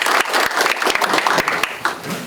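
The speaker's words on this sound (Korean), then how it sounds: "시장님한테 뜨거운 박수 한번 보내주시기 바랍니다" Audience applause for the mayor at a residents' autonomy council inauguration ceremony in a city hall conference room, a dense burst of clapping with sharp individual claps standing out, loud and steady throughout.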